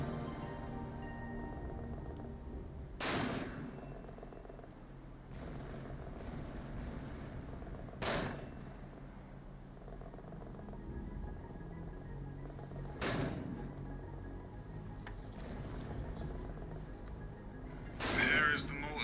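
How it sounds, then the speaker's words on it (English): A WW1 mortar team fires in an Unreal Engine video game, with four heavy booming shots spaced about five seconds apart over a steady, wind-like ambience. "Here is the mortar team hard at work."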